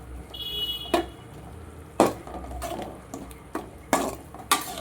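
Spice powders are stirred into a pan of okra curry, giving a few sharp scrapes and clinks of a spoon against the pan at irregular intervals, quiet between strikes.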